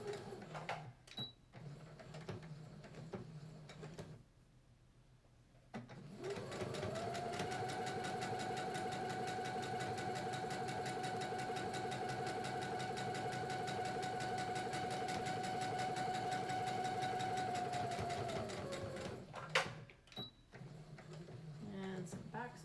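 A sewing machine runs a long continuous seam on a fabric face mask, a steady close mechanical whirr with a rapid needle rhythm lasting about fourteen seconds, bracketed by brief stops and short back-stitch bursts at the start and end.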